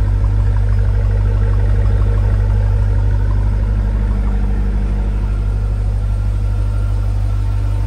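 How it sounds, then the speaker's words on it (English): A 2018 Jeep Grand Cherokee Trackhawk engine idles with a deep, steady rumbling burble from its quad-tip exhaust, continuous and fairly loud throughout. "You got quad exhaust tips in the back, kicking out that nice burble."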